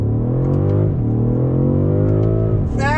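A 2021 BMW M550i all-wheel-drive sedan pulls hard under throttle, its engine tone climbing steadily with quick dips at gear shifts, a loud continuous drone with a final shift near the end.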